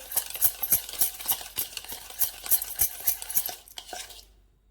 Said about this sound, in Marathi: अजून एखाद दुसरा मिनिट आपण हे मिक्स करून घेऊया